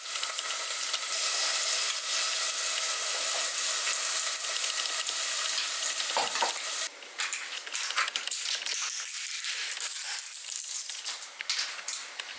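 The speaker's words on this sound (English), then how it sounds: "Then I'm going to add some kimchi." Kimchi fries in a pan with chili garlic sauce and sesame oil, a loud, steady sizzle that briefly dips and returns with crinkly, sputtering crackles.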